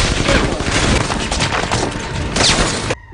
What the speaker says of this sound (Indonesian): langsung menghujani anak buah Barel dengan senjata peluru yang mematikan